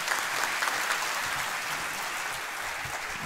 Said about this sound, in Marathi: दोरात टाळ्या झाल्या पाहिजेत